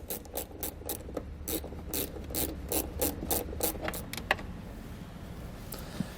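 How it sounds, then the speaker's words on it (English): Ratchet with a T30 Torx socket removing a bolt in the cargo area of a 2017 Mercedes-Benz GLE, a rapid series of sharp clicks in steady rhythm for about four seconds before stopping, close and clear, no talking. "We're going to use a T30 Torx socket to remove the bolt."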